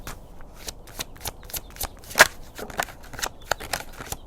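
Tarot cards shuffled by hand in a rapid run of crisp riffling flicks and slaps, close and fairly soft, with one sharper snap partway through and no talking.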